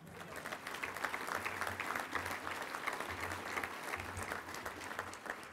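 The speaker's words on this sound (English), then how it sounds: "You could clap for that." An audience at a touchdown club luncheon breaks into applause, a steady patter of many hands clapping at moderate volume for several seconds.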